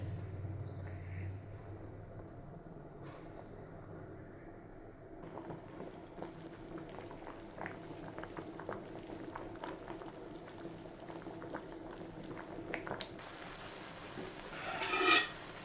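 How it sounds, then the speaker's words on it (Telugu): Rice cooking at a gentle boil in a pot for Andhra-style pulagam, a low continuous bubbling simmer with soft rustling, rising into a louder burst of bubbling and hiss at the very end. "అన్నం ఉడుకుతుంది ఇప్పుడే."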